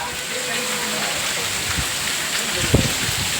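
Heavy rain falls steadily outdoors during a thunderstorm, a dense constant hiss with a few louder splashes and knocks, while voices talk over it.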